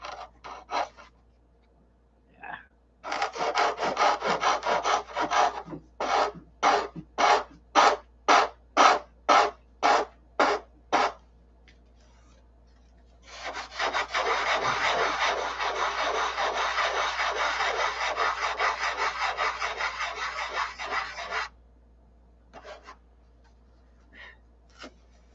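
Wood is ground down inside a boat for an inboard engine installation, a dry rasping scrape in rapid repeated strokes, then a long continuous grinding run, close and fairly loud with short pauses between passes.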